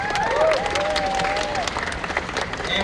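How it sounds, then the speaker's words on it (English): Audience at a Fan Expo Vancouver 2024 convention Q&A panel applauding, a dense continuous clapping crowd with a few whistles and cheers rising over it. "Give yourselves a round of applause."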